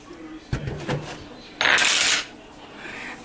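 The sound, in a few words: Patty Brown measuring spoons being handled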